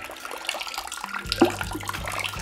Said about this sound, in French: Hop, on attend que l'eau coule.